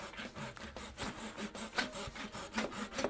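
A hand saw cuts joint notches in wooden table apron sides. The strokes come in a steady rasping back-and-forth rhythm, close and clear.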